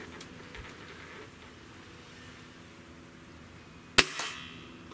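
A single sharp crack of a .30 caliber air rifle shot, Gamo Swarm Magnum or Hatsan 135, fired outdoors after a quiet stretch, followed by a brief ringing tail.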